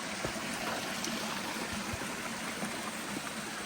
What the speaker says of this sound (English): I could only assume is where the water kind of trickles down through the creek over there